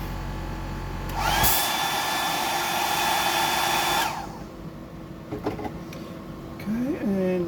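A hair dryer blows on painted scales for about three seconds, a loud close whoosh that starts and cuts off abruptly, followed by faint handling knocks and a brief whirring squeal.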